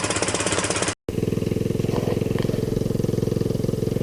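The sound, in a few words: 150cc GY6 Hammerhead clone engine idling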